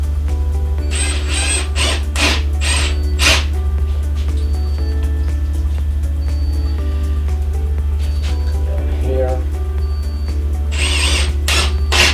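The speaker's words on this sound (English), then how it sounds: "So get my handy dandy Makita drill," A Makita power drill whirs in several bursts as it bores into wood, loud and close, with short pauses between runs and a steady hum underneath.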